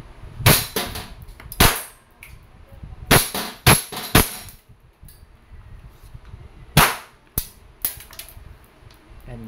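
An E&C airsoft Glock 19 Gen 5 pistol fires about eight sharp, snappy shots in irregular bursts, some in quick pairs, close and loud over faint room noise.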